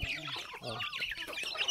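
Farm chickens cluck in a short burst of quick, close calls with a few higher squawks.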